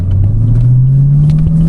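A manual-transmission car engine revs while driving on a cold start, its loud, close drone climbing steadily in pitch as it accelerates, with no talking.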